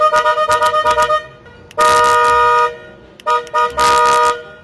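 A car horn blares outside, first a rapid burst of about eight short toots, then a long sustained blast, a quick double beep and another long blast, all loud and close.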